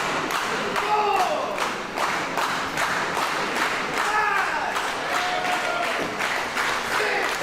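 Crowd noise at a professional wrestling pay-per-view event, with scattered clapping and thuds from the ring, underneath continuous commentary.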